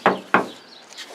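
Passenger door of a Dodge Ram van without sound dampening, slammed shut twice in quick succession, each a sharp, loud metallic thud with a short hollow ring; close by, no talk.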